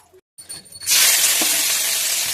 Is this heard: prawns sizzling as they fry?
yes